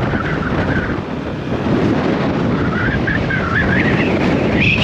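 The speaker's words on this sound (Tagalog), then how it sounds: "Lakas ng hangin." Strong wind blows hard across an outdoor scenic roadside, a loud, continuous roaring rush buffeting the microphone throughout, with faint higher whistling tones drifting through it.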